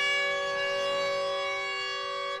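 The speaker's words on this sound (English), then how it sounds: "There's the sound of the Turtleford Hotel horn, and Ross Knight is on the move right here." A loud, sustained hotel horn signalling the start of a race heat, with a steady, rich harmonic tone, holding for a couple of seconds before cutting off.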